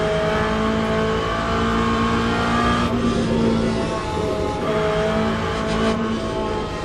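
Corvette GT3 race car in the Le Mans Ultimate sim racing game, its engine droning loud and steady at high revs with slight pitch shifts from gear changes, continuous throughout with no talking.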